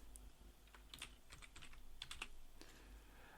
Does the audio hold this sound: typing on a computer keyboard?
yes